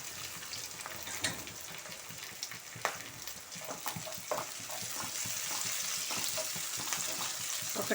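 Green chillies and curry leaves fry in hot oil for a brinjal and dried fish curry, a quiet, steady sizzle with occasional stirring clatter, close and without talk.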